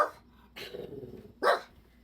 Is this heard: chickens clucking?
no